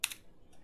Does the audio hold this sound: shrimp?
no